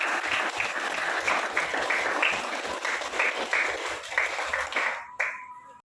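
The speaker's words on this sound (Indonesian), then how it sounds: "Di tepuk tangan dulu untuk sebuah kelompok" Schoolchildren in a classroom applaud a group with brisk, dense clapping at moderate loudness that holds steady, then cuts off abruptly near the end, leaving a brief faint tone.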